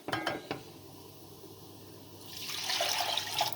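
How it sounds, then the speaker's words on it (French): Broth poured into a pan of rice pilaf, a few faint clinks at the start, then a soft liquid hiss and sizzle that swells and grows brighter over the last second, with no talking. "Je verse mon bouillon."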